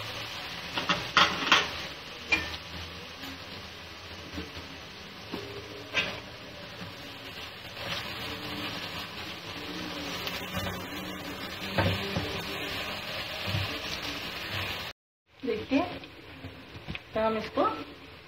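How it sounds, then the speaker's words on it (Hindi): Chopped onion with ginger-garlic paste frying in a pan for a gravy salan, a steady sizzle with stirring clatter that runs continuously, briefly cuts out, then resumes with spoon scrapes. "तो हम इसको फ्राई कर रहे हैं अच्छी तरह।"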